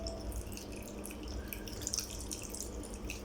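Cold tap water runs from a kitchen faucet in a steady, continuous stream with light dripping splashes, moderately close and alone without voices.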